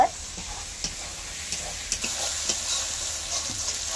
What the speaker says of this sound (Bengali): তারপরে পেঁয়াজটা দিয়েছি, তারপরে রসুন দিয়ে আমি নাড়ছি